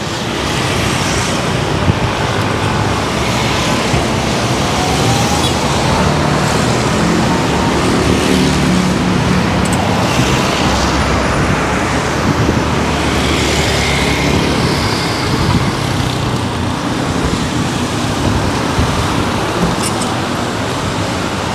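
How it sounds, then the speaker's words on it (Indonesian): Dense road traffic crawling through a night jam in Kuta, Bali, a constant loud wash of engines and tyre noise with passing cars and motorbikes close by. "Sudah mulai macet ya di depannya."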